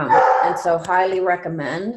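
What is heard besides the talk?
dog barking in the background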